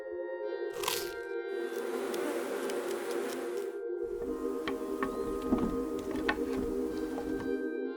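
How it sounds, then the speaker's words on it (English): A dense, droning buzz of swarming bees hums steadily throughout, with brief crackling and scraping noises of a honey badger clawing open hive wax scattered over the swarm. "The bees swarm around it"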